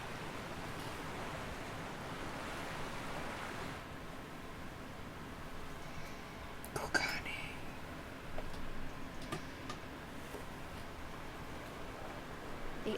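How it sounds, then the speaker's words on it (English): A steady, soft wash of ocean surf near the Ruby Sea port of Kugane in Final Fantasy XIV. The noise is broad and hissing with gentle swells, faint throughout, and a few brief clicks are scattered through it. "the crash of the waves as we drew closer to Qiqirn"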